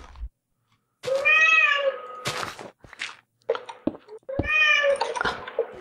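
A house cat meows loudly and close by, two long drawn-out cries separated by a short gap with a few thumps and soft noises between them.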